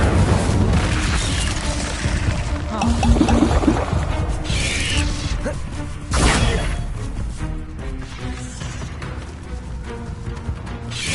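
Incendio fire spell cast in Hogwarts Legacy, bursts of whooshing flame and crashing impacts recurring over a dense, busy game soundscape, with a strong blast around six seconds and softer crackling between.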